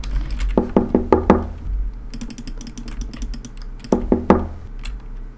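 Knocking on a door in the game Façade: two bursts of four sharp, evenly spaced knocks, then a later group of three, close and loud over a low steady hum, with faint clicking between bursts.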